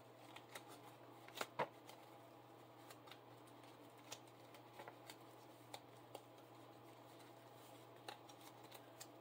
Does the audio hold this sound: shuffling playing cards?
yes